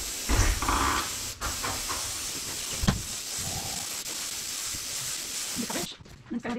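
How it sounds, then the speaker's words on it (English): Airbrush spraying black paint in light, gentle passes over a stencil for a Yorkshire rose, a steady close hiss running for several seconds before it cuts off near the end. "black in the airbrush and ready to go"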